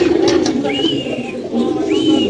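Pigeons at a pigeon seller's coop coo up close and loudly, with soft rolling coos and a couple of higher chirping calls over a steady murmur of birds.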